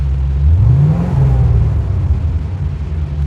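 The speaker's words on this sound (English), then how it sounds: "let's fire the engine up" A Chevrolet Corvette C4 V8 engine fires up and revs, a loud, close, deep rumble that climbs in pitch early on and then settles into a steady, throaty idle.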